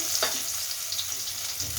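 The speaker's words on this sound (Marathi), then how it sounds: "आता तेल गरम झालेलं आहे, फोडणी टाकूया लसूण" A steady, loud sizzle of garlic frying in hot oil, a continuous crackling hiss with no voices.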